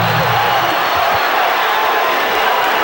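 A dense, loud arena crowd roars and cheers during a Bulls vs Hawks first-round playoff basketball game in Atlanta, a steady wash of noise filling the whole moment.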